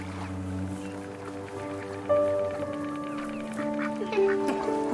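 Ducks quacking and clucking close by in the video game That Dragon, Cancer, a few calls rising over a steady tonal background with faint talk underneath.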